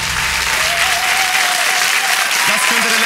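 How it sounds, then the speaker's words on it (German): Studio audience applauding steadily and loudly at a German late-night comedy show, a dense wash of clapping filling the whole stretch, with a bit of voice creeping in near the end. "Das könnte der letzte Applaus sein für ein sterbendes Medium"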